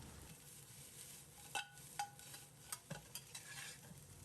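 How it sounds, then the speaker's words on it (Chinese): Garlic-seasoned fried potatoes being stir-fried in a pan over medium heat, a soft steady sizzle broken by a few sharp scraping clicks of a spatula against the pan, close and quiet with no talking. "开中火简单翻炒扒拉2下"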